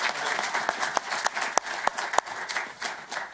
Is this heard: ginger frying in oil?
no